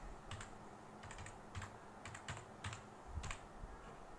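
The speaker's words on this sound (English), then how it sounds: "Suppose let's type our school name." Soft, close keystrokes on a computer keyboard come in small irregular clusters of taps against a quiet room, with no talking.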